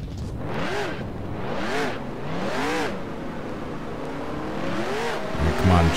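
Race car engines in NASCAR Racing 2003 rev in repeated rising and falling sweeps, three strong surges and then a rougher burst, loud and close with a continuous drone beneath.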